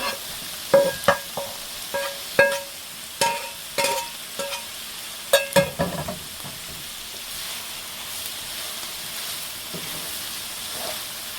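Eggs are cooked in a pan while making spicy fried rice. A spatula clatters and scrapes in quick, uneven bursts over a steady, low sizzle, and the stirring fades to a quieter hiss toward the end.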